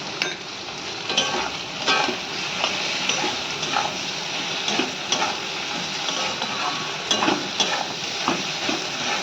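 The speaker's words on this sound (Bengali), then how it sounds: "এটাকে ভালো করে কষিয়ে নেব।" Rohu fish curry with turmeric and taro stolons being stir-fried in hot oil in a pan, a steady close sizzle with the scrape of stirring and occasional light clicks of the spatula throughout, no talk.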